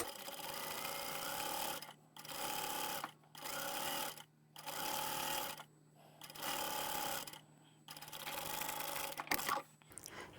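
A sewing machine stitches a fabric sleep mask with a quarter-inch seam, loud close whirring bursts of about two seconds each, broken by short pauses in a steady on-off rhythm, with no speech.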